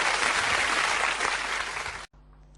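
A studio audience on a 2013 quiz show applauds a departing contestant, a dense steady wash of clapping that cuts off abruptly near the end, leaving a quiet room tone.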